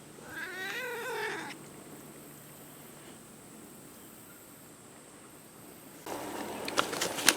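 A cat gives a wavering, drawn-out meow that rises and falls in pitch and is close and moderately loud. Quiet outdoor garden ambience with raised beds follows, then a second burst of nearby rustling and higher sounds near the end.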